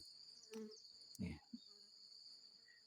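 Flying insects buzz inside a dark nest hole in the ground, a faint, steady drone heard over a quiet outdoor background, with a few brief louder rustles.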